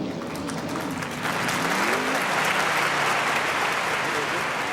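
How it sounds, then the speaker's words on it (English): A crowd applauds steadily at a sprint car race in Ventura, California, the clapping swelling louder after a moment and continuing, with a voice speaking over it at first. "Nice round of applause for your winner"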